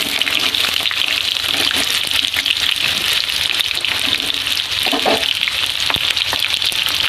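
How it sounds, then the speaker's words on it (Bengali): Potato pieces fry in hot oil with salt and turmeric in a village home kitchen, a loud, steady, close sizzle that crackles continuously throughout. "আলুটা করে লাল লাল করে ভেজে নেবো।"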